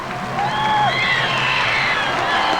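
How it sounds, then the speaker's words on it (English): Football fans on both sides of the stands at a state championship game applauding, a steady crowd wash with whistles and scattered shouts, fairly loud and continuous. "fans on both sides expressing appreciation to their teams."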